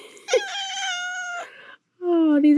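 Luna, a cat hiding in a closet among extra blankets, gives two loud, drawn-out meows close by, the second rising and whiny, with a short pause between them.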